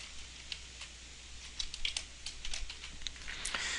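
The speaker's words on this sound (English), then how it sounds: "we'll just type the word hello here" Quiet typing on a computer keyboard while writing plugin code, light irregular key clicks that quicken into a short burst toward the end, close and faint, without speech.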